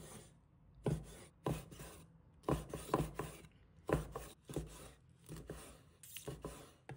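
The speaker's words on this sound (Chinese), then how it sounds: "把鱿鱼切成小段" A knife cutting squid into small pieces on a cutting board: a series of close, soft-edged chops in uneven clusters with short pauses between, fairly quiet and with no talking.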